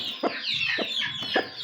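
A hen clucks softly in short repeated bursts, with a faint high-pitched chirping of chicks running underneath throughout.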